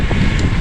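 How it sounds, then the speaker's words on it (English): Strong wind on Scotland's north coast buffets the microphone in a low, continuous roar, loud and close. "It's getting mighty windy."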